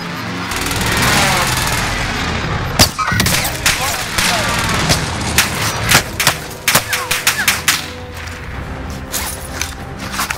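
Heavy gunfire in a Warzone battle royale match: a dense stretch of rapid automatic bursts and sharp single shots, loud and close, with crackling impacts and overlapping fire continuing throughout.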